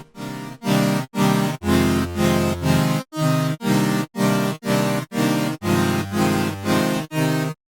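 Synth chords strike in a steady rhythm, about a dozen full stacked stabs with short gaps between them, loud and bright.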